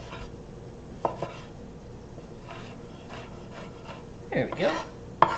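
A knife chopping tomatoes on a cutting board in a home kitchen, with scattered soft taps and a brief burst of quicker cuts near the end, close by, and a few spoken words.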